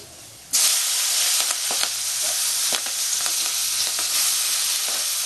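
Shredded cabbage dropped into a small amount of hot oil with turmeric and panch phoron for a Bengali cabbage fry bursts into a loud, steady sizzle, with occasional clinks and scrapes of stirring over the continuous hiss.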